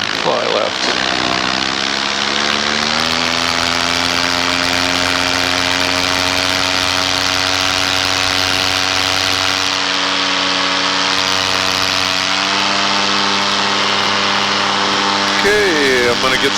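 A small propeller airplane's engine drones steadily and loudly in flight, a continuous harmonic hum with a slight pitch shift partway through, with a voice faintly heard over it.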